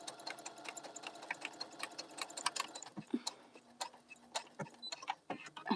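A sewing machine stitches through fabric while a bag is being made, a steady fast mechanical rattle that pauses briefly and restarts in short bursts, close and clear with no talking.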